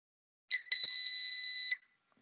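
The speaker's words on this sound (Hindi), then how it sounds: "ये एक बीप सुनाई दी है" A single electronic beep from lab equipment sounds alone: a brief blip, then a steady, loud, high-pitched tone holding for over a second before cutting off into silence.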